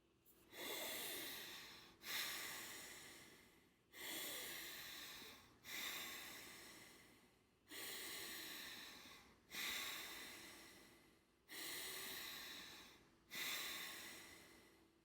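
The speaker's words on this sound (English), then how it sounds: "keep the mouth shut, inhale deeply through the nose, the belly swells, the chest swells, full exhale" Bellows breath done through the nose in a guided breathwork session: eight forceful, evenly spaced breaths about two seconds apart, each a loud close rush of air that fades, with no talk over them.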